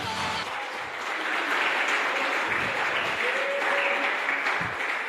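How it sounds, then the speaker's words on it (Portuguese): A church congregation applauds during a worship service, dense sustained clapping filling the room, with faint voices and a brief tonal sound rising through the crowd noise. "Aplauda o Senhor."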